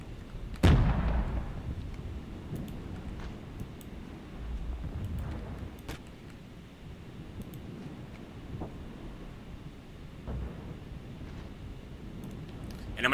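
Artillery fires in the cold-war strategy game Regiments, opening with one heavy thud and followed by a scattered rumble of distant blasts and pops across a low battlefield drone.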